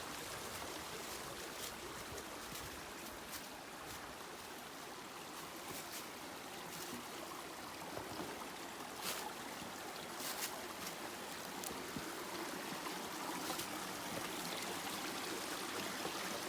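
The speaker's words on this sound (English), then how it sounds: "This is where that waterfall up the top comes out the bottom." Spring water flows and splashes continuously below a waterfall in a bright, hissing rush, steady and close with no voices.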